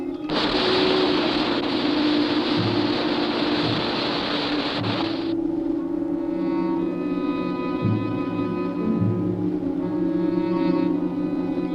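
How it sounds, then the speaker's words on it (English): A retro rocket fires on a cartoon spaceship preparing to land, a loud steady roaring hiss that cuts off abruptly partway through and leaves a lower humming drone with soft thumps. "Firing retro rocket."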